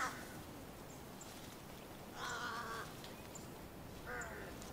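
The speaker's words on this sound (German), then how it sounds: "hat aufgeregtes Krähengeschrei gehört" Excited crows caw in loud, harsh bursts, two or three calls spaced a couple of seconds apart over a steady hiss of outdoor background noise.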